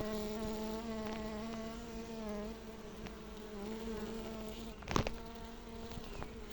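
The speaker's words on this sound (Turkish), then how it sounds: "Uçuş tahtasına gelen yorgun tarlacılar yavaş yavaş içeriye giriş yapıyorlar" Honeybee foragers, tired from the field, arrive on the landing board of a hive entrance, their dense steady buzzing continuous throughout, with one louder bee passing close by midway.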